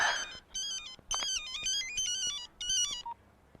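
A phone ringtone plays as a bright, electronic melodic tone in repeated short phrases, loud and close, with brief gaps between bursts.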